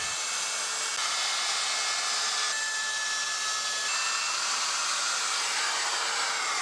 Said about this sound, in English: I've cut this piece just a little bit bigger than the particle board so that I can router off the excess.